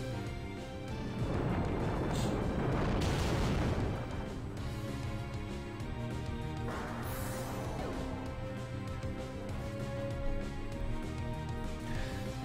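Earthquake attack in a Pokémon battle, heard as a loud rumbling, crashing impact that swells over a few seconds, then gives way to continuing game music and effects.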